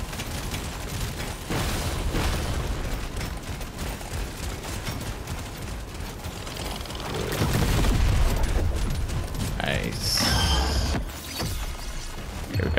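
Dense, constant gunfire and bursts of explosions from the Deep Rock Galactic: Survivor video game, a busy wash of rapid shots and booms that swells louder midway, with no talking.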